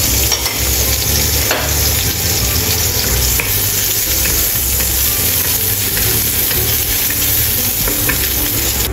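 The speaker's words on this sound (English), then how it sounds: "Stir-fry ginger slices." Ginger slices and onion whites sizzle loudly in hot oil while being stir-fried, a close, continuous frying hiss with scraping and stirring clatter running through the whole stretch.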